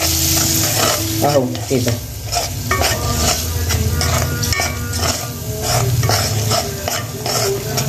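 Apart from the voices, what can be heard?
stirring flour in frying oil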